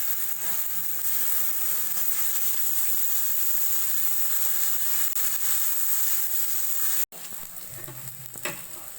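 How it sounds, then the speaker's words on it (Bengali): Chopped tomato sizzles and fries in hot oil with browned onion, a steady loud crackle that breaks off briefly near the end before resuming more quietly. "টমেটো কুচিগুলো দিয়ে দিলাম।"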